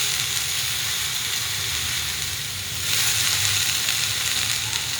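Cluster beans roast in a little oil on a hot pan, giving a steady, close, crackling sizzle that briefly softens midway and then swells again.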